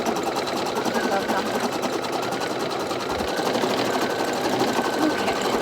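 An embroidery machine stitches a quilt block with a steady, fast mechanical whir and rapid needle chatter, close and continuous throughout, with a voice speaking over it.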